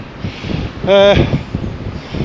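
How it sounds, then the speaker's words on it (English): Strong wind buffets the microphone with low, rumbling gusts on the Holderness coast at Easington, UK, while a voice briefly calls out over it. "It's just got too windy, it's really bad."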